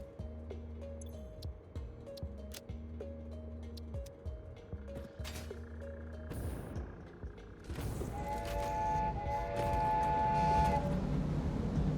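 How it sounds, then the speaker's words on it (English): Steam-style train whistle from a locomotive in the factory-building video game Satisfactory, a sustained tonal blast rising over rumbling rail noise and game music, loud and close near the end. "Really? I got to hear the whistle?"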